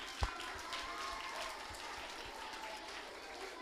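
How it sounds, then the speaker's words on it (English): Prize winners at an Eisteddfod school competition get a steady wash of audience applause, moderately quiet and continuous, with one sharp knock near the start. "Should we give them a round of applause?"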